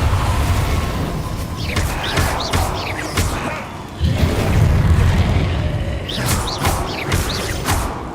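Confringo blasting spell in Hogwarts Legacy: deep booming thumps burst out twice amid a busy magical duel, with whooshing, chirping spell effects flickering over the low rumble at moderate loudness.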